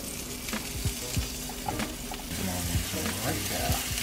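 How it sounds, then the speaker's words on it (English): Zucchini slices sizzle steadily in a light coat of grapeseed oil in a hot pan, a close, continuous crackling fry with small scattered pops. "They're sizzling all nice."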